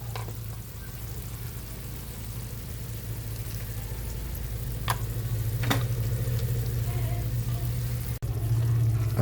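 Celery and fish sauce sauté in a pot, a steady close sizzle and hiss that grows slightly louder, with a few clinks of a utensil against the pot.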